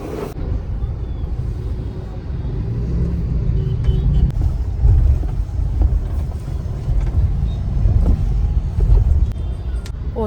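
A car driving on the road toward Kalyan's market, with a steady engine and tyre rumble running throughout at fairly close range, accompanied by some wind buffeting and faint talk inside the vehicle.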